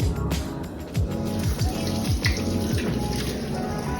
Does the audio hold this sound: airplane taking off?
no